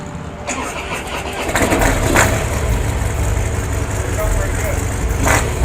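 A 2017 Harley-Davidson CVO Pro Street Breakout motorcycle engine cranks and fires up, then settles into a loud, close, rumbling idle, with voices briefly heard around it.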